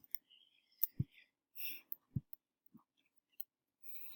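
Computer mouse clicks while logging into ManageBac, a handful of sharp, isolated clicks spaced irregularly over a few seconds, close and quiet, with faint soft background rustles between them.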